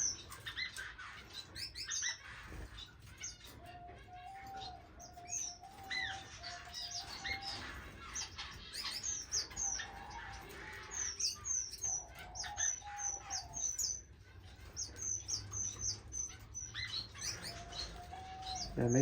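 Small waxbill finches in an indoor bird-room aviary chirp in rapid high twittering bursts with brief wing flutters, continuous and close throughout, with no speech.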